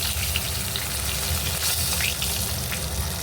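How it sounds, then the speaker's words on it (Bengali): Fish heads fry in hot oil for a Bengali muri ghonto, a close, steady, hissing sizzle with small crackles throughout and no voices. "মাছের মাথাগুলো ভালো করে ভেজে নিতে হবে"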